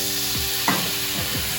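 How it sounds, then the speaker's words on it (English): Lime juice hits a hot pan to deglaze it, producing a steady, bright sizzling hiss with a faint stir partway through. "This is gonna help to deglaze the pan, pull all that crispy awesomeness off the bottom, and also add that citrus flavor."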